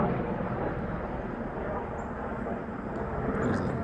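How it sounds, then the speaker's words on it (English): Helicopter passing overhead in an outdoor yard, a steady broadband rotor and engine rumble that holds at an even level throughout, sounding moderately distant and continuous, with no voices. "Hello, helicopter."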